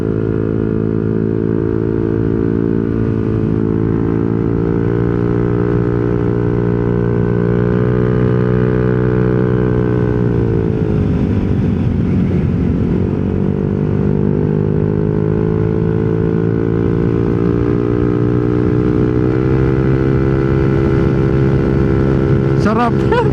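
A Yamaha Nmax scooter fitted with a TSMP CVT set and aftermarket muffler runs close by with a loud, steady engine drone. The revs dip briefly midway and then climb back up.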